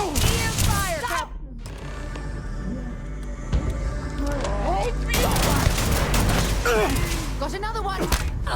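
Rapid bursts of gunfire and thudding impacts ring out in a Starfield firefight, close and loud, with voices shouting over the shooting.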